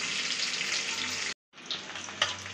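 Onions sautéing in a pan for Erode-style chicken fry give off a steady, loud sizzle that cuts out briefly, then returns with a few stirring scrapes.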